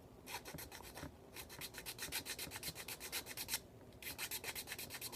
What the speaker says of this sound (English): once I go through with the file one time around, I'll get a sanding stick and just kind of smooth out, get rid of some of those sanding marks